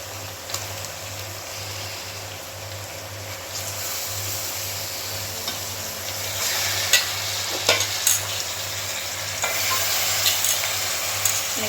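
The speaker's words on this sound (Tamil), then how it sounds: "இஞ்சி பூண்டு பேஸ்ட்டெல்லாம் நல்லா வதங்கிடுச்சு இப்போ வந்துட்டு நாட்டுக்கோழி எடுத்து போடுறோம்" Ginger garlic paste and country chicken sauté in a hot pan for a Sunday chicken curry, giving a steady close sizzle and frying hiss with occasional stirring scrapes and clinks throughout.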